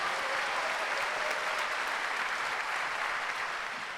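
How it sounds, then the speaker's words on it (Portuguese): Church congregation at a finance conference applauding loudly and continuously, a thick even roar of clapping that holds for the whole stretch. "Quem pode aplaudir a Deus e bradar de vitórias?"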